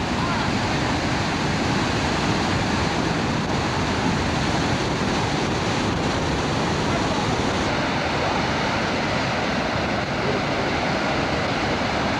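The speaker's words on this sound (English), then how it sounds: "It said Medino Falls on the Presque Isle River." Manido Falls on the Presque Isle River pours in a steady, dense roar of rushing water, loud and continuous from nearby with some wind buffeting.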